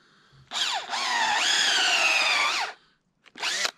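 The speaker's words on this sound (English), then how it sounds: "all we got to do this year is drill a hole in the tree and put the tap in" Cordless drill boring a tap hole into a maple tree outdoors, a loud whining motor that spins up with pitch sweeps and holds for about two seconds, then stops, followed by a short second burst.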